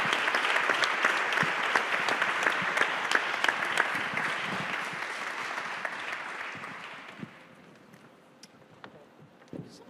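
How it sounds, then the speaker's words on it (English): A conference audience applauds a discussion panel, brisk clapping that holds for several seconds, then thins out to scattered claps and quiet. "May I have a warm round of applause for my panel,"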